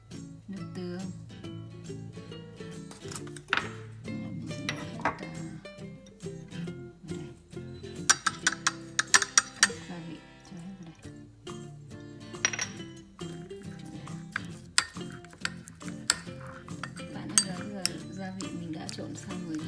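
A spoon clinks and scrapes against a bowl while stirring a squid marinade of satay chili paste, cooking oil, lemongrass and soy sauce, steady tapping and clattering with occasional sharper clinks as a person talks.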